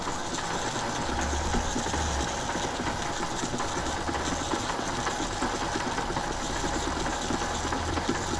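A homemade VHS tape cleaner built from thrift store parts runs a cleaning pass on a sticky tape, its small motor humming steadily and close throughout with a constant low whir.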